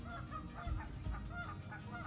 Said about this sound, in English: oh, I hear the geese.